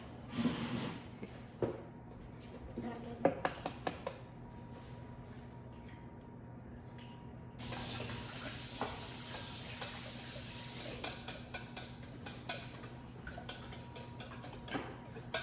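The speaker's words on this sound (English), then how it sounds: "we are going to whisk together our 4 eggs" Four eggs are whisked together in a bowl, making rapid bursts of ticking clicks against the bowl's side that come in quick runs with a steady background hum and no voices.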